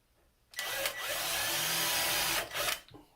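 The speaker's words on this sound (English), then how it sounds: "that one's going to be tough because the drill is hitting the shelf" Power drill boring into soft pine inside a cabinet while installing a double ball catch, a loud steady whine lasting about two seconds with a brief stutter near the end, close by and without talk.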